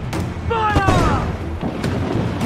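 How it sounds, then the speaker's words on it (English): Mortar and cannon fire in a naval battle from Assassin's Creed IV: Black Flag, a dense din of booming shots and thuds over a crackling battle bed, with voices shouting in the background. "They're firing mortars!"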